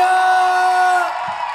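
A concert crowd in Kyustendil cheers and whoops loudly for a singer, a dense, sustained roar of voices that eases slightly near the end.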